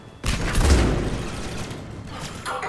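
A weapon in the Mass Effect 3 video game fires with a sudden loud burst, and the blast rings on in a sustained rumble that slowly fades over the next two seconds.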